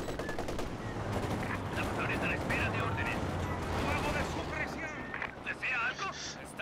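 Heavy rumbling blasts and crackling bursts from demolition charges in the video game Company of Heroes 2 roll on continuously, loud and dense, with faint voices underneath.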